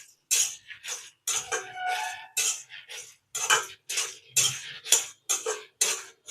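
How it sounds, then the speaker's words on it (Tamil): Chidambaram masala spices roast dry in a pan, heard as a rapid series of short, sharp crackles and scratchy stirring bursts, close and without talk. "கொஞ்சம் வறுபடட்டும்."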